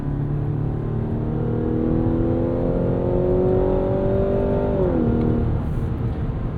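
A 2023 Mazda CX-90 Plug-in Hybrid in sport mode accelerates hard onto the road, with a loud engine note rising steadily in pitch, dipping briefly at a shift near the end, then pulling on under constant cabin rumble.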